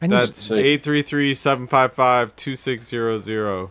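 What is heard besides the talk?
No everyday noise stands out behind the speech.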